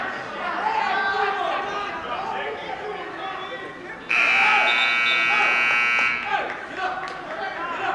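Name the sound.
buzzer ending a wrestling round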